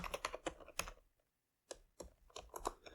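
Rapid keystrokes on a computer keyboard as HTML code is typed, coming in close, clicky bursts with a brief silent pause partway through before the typing resumes.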